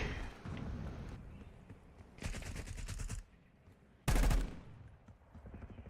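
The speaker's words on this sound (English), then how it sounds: "You shooting at me, Miko?" Gunfire in the video game Call of Duty: Black Ops 6, heard as a few loud automatic bursts separated by quieter stretches, with one sharp, very loud blast near the end.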